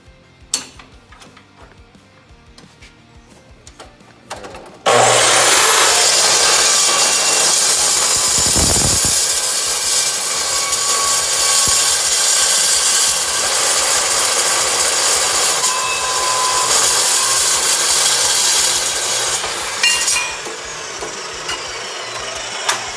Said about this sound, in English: I've got my metal saw set up